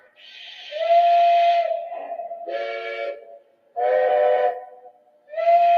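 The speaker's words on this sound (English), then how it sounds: "legacy engines actually do use different whistles and horns. So it'll play a sample of every one as you just step through them" Sampled whistles and horns from Legacy model train engines play one after another: four loud, separate blasts with short gaps, some reedy and some steam-like, heard alone.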